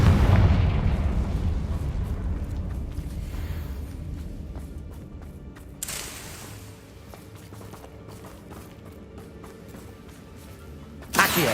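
A Confringo blasting spell explodes in the game Hogwarts Legacy: a heavy boom opens with a long rumbling decay, a sharper burst follows midway, and a final pop comes at the end.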